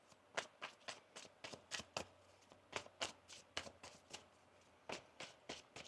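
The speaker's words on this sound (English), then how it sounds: "One more shuffle here." Tarot cards are shuffled by hand in a quick series of crisp riffling bursts, close and fairly quiet, with no talk over them.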